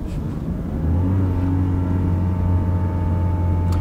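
A car rolls in first gear without throttle, its engine braking with a steady low drone and whir that settles into an even hum for a few seconds.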